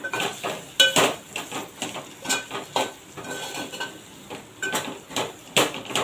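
Rice with turmeric is stirred in a metal pan, an irregular series of clinks and scrapes of utensil on metal, close and moderately loud with no speech.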